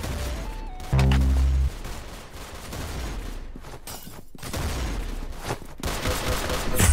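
Rapid gunfire from the Roblox first-person shooter Arsenal: sharp, close bursts of game gunshots, with a short buzzing electronic tone near the start, then dense crackling shots continuing to the end; no talking.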